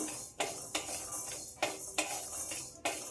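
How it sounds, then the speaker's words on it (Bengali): Raw coriander and cumin seeds dry-roasting in a pan over low heat, with a steady faint sizzle broken by repeated scraping and clinking strokes of a spoon against the pan, alone with no talking. "এগুলো সব কাঁচা বলে আমি একটু ভেজে নিচ্ছি"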